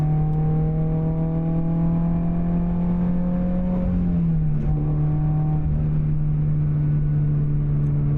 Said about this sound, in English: That Boxer engine just has that really like deep kind of growl to it